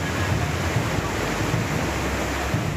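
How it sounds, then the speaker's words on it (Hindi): Surging floodwater of a swollen river in Nashik, Maharashtra, a loud, steady roaring rush of churning water with a deep rumble, continuous and close. "ये उफनती लहरें खौफ पैदा कर रही हैं।"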